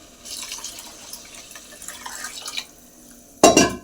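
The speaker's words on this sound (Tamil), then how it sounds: "ரெண்டு டம்ளர் அரிசிக்கு 6 டம்ளர் தண்ணி ஊற்றிக்கலாம்." Water poured into a pot of soaked home rice for peas pilaf, a steady pouring and trickling that runs for several seconds, then a brief louder splash near the end.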